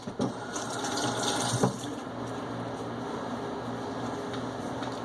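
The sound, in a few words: water running from a tap while washing hands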